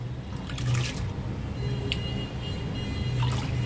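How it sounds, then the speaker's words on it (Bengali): Rice pours into a cooking pot of water for soybean biryani, a continuous watery rush with faint splashes and drips, steady and close throughout. "আমি ডেচকিটার মধ্যে জল দিয়েছি। এবার আমি এর মধ্যে চালটা দিয়ে দেবো, দিয়ে দিলাম।"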